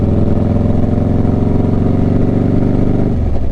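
A motorcycle exhaust drones loudly and steadily, its engine note holding a constant pitch before dropping off near the end.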